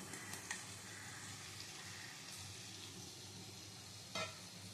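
Marinated fish frying with poppy-seed spice paste in a pan, a faint, even sizzle running throughout with a brief scrape near the end.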